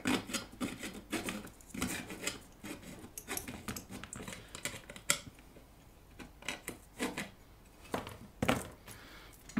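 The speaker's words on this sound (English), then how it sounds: "Those holes will also take some deburring. I will use a file on this side." A metal file rasps and scrapes at the burrs around drilled holes in an amplifier chassis, in short irregular close strokes with occasional light metallic clinks.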